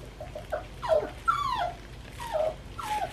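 A puppy, a young dog newly brought home, whimpers and yips in several rising and falling whines, some drawn out, others short, fairly close and alone with no talk.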